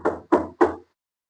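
Three firm knocks on a door, evenly spaced and close, each a sharp hollow thud with a short decay, followed by silence.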